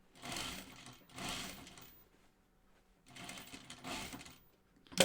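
A sewing machine stitching fabric in short bursts, two quick runs, a pause, then two more, each a buzzing whir close by with quiet gaps between.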